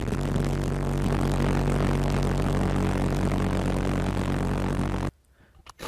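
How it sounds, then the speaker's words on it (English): A homemade valveless pulse jet engine runs loud and steady with a dense, buzzing roar that holds for about five seconds, then cuts off abruptly into near silence. "This happens a few hundred times each second, and makes the distinctive pulse jet sound."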